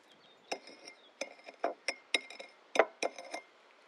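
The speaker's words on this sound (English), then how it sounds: "So, rim your glass with your salt." Glass clinking while a margarita glass is rimmed with salt: a series of sharp, bright taps and clinks at an uneven rhythm, fairly close and clear, with no talking.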